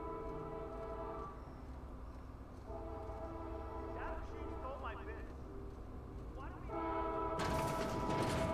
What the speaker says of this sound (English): Okay, train.